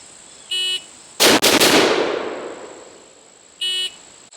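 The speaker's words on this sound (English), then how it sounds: "Let's try 3 shots from here and see how it does." An MK47 semi-auto carbine fires from 10 yards, a dense burst of three sharp reports in just over a second, followed by a long decaying echo, with short electronic beeps sounding before and after.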